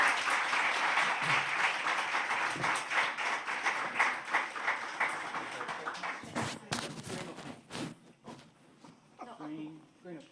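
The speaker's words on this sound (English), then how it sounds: "could I invite the audience to give our panel a round of applause?" Audience applause for a panel at an energy retailer report launch: sustained clapping from a seated crowd that thins into scattered claps and fades, with faint talk toward the end.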